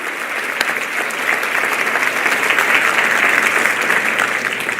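Sustained audience applause fills a large hall during a sermon on the end times, steady and dense clapping that swells slightly midway and carries on without any voices.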